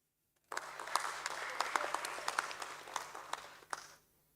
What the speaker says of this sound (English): A nice round of applause, ladies and gentlemen.